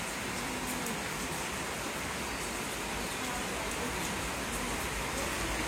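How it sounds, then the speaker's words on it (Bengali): Rain falls outdoors while a family prepares food, a steady, even hiss of drops that holds at a low level throughout with no voices or other distinct sounds. "এদিকে বৃষ্টি, এই যে পড়তে আছে বৃষ্টি।"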